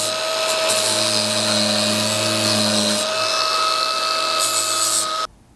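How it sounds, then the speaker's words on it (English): An angle grinder with a sanding disc whines steadily with a high humming tone and harsh abrasive grinding against the metal edges of a steel rear bumper on a Toyota Tundra, close and loud, then stops abruptly. "now I'll just take a sanding disc and kind of clean up all these edges"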